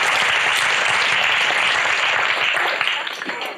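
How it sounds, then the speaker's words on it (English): An audience at a spiritual talk breaks into loud, dense applause that holds steady before thinning out near the end, with a little speech mixed in. "That definitely deserves a clap."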